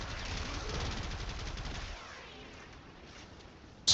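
The Gotva Prime rifle firing in the video game Warframe, a dense, loud burst of rapid automatic shots that stops abruptly midway, leaving a fading rumbling tail, then a sharp click at the end.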